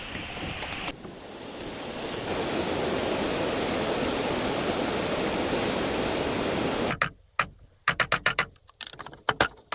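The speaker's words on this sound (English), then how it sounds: "The water flows through the bamboo and the pool comes to life" Water pouring steadily through a bamboo channel into a pool in a jungle river setting, a dense continuous rush that fills most of the stretch before giving way to a series of sharp clicks and taps.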